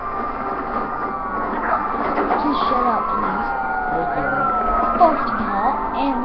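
Wailing police car siren from Grand Theft Auto V, sweeping up and down in pitch continuously and fairly loud over game background noise, with a person talking briefly.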